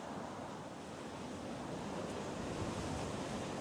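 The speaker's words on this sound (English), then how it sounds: "Well, it is very, very windy." Strong wind roars continuously on the northwest coast of Scotland at Oban, a dense, broad rush that swells slightly toward the end. Surf-like buffeting runs through it and no voices are heard.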